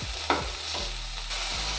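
Chopped tomatoes sauté in a pan for kara boondi kurma, giving a close soft sizzle with a couple of brief stirring scrapes over under two seconds.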